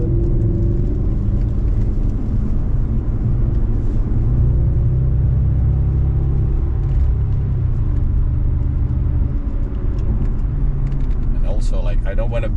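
An Audi's engine hums and rumbles steadily from inside the cabin on a race track during a track day, with a continuous low drone under voices talking.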